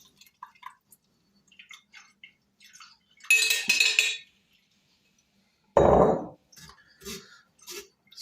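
Kefir grains worked through a sieve in a kitchen: scattered soft clinks and drips, a longer bright scraping rustle, then a thick pouring splash, close and intermittent.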